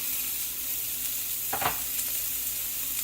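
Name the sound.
chopped onion frying in vegetable oil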